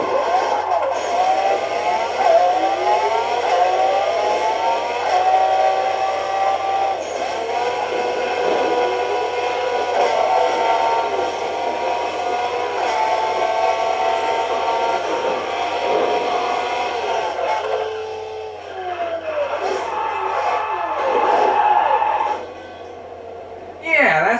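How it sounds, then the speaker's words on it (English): Prototype car engine in the Burnout Paradise racing game, a steady high whine with rising and falling tones like gear shifts, running loud and continuous for the whole stretch, dipping briefly near the end before surging again. "The engine sound I was talking about"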